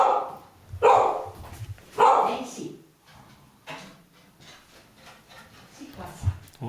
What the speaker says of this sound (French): Salut le petit chien.